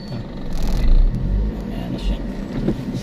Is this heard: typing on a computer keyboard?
no